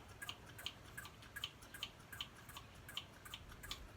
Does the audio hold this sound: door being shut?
no